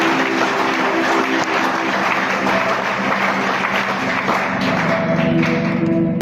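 A church congregation claps and cheers in praise, a dense, steady wash of applause over a sustained musical tone, loud and continuous throughout with no pauses.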